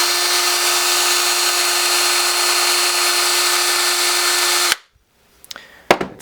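Power drill spinning nylon strands for a bullwhip runs as a loud, steady whine for nearly five seconds, then cuts off abruptly, followed by a few faint clicks and handling noises.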